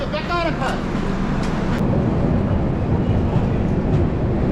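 The Dibrugarh–New Delhi Rajdhani Express pulls out of New Jalpaiguri railway station with a steady, loud rumble of wheels and carriages, while a person talks briefly near the start.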